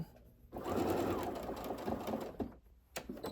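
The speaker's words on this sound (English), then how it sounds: "Back stitch, front stitch, back stitch some more." A sewing machine stitches fabric for a machine cover, alternating back and forward stitches in a loud, close, continuous whir that stops briefly near the end.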